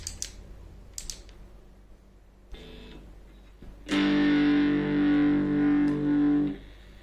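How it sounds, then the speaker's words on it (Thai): A burst of heavily distorted electric guitar played through a Bluetooth speaker, a sustained gritty chord that rings for a few seconds and then cuts off, after some quiet clicks. "ลองฟังเสียงแตก"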